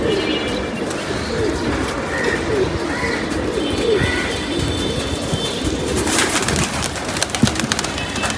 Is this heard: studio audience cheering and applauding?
no